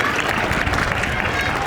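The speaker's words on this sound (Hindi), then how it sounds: "जोरदार तालियां मेरे सारे बच्चों के लिए।" Students at a Republic Day school event clap in a dense, steady wash of crowd applause that fills the whole moment without a break.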